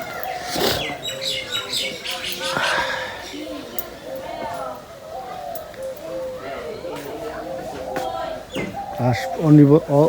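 A dove calling in a rural village, soft repeated cooing mixed with other bird chirps, heard beneath a person talking throughout.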